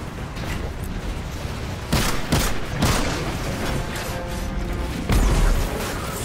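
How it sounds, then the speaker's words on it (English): In the Destiny 2 video game, rattling gunfire runs throughout, punctuated by two loud, booming explosions, one near the start and one near the end, with no talking. "I think that was a big enough explosion."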